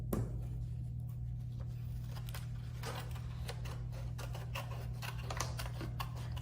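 Scissors cutting strips of colored paper for a Fourth of July craft kit, a series of soft crisp snips and rustles over a constant low hum, close and fairly quiet, with no talking.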